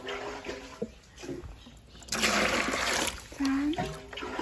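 Groundwater mixed with tap water is poured for pickling mango: a loud, broad splashing burst runs for about a second in the middle, with quieter trickles around it and a brief voice near the end.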